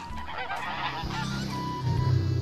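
Goose honking, loud and close, a series of nasal honks layered over a continuous low rumbling background, with no talking over it.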